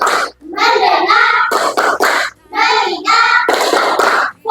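A classroom group performs the tepuk fokus chant, loud voices calling out in unison in short bursts, punctuated by sharp rhythmic hand claps between phrases.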